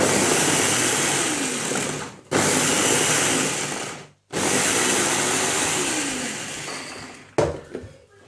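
A food processor or chopper whirs loudly in sustained bursts, running about two seconds, pausing, then two more longer runs before stopping, while chopping vegetables for a ferment with apple; a short clatter follows the last run.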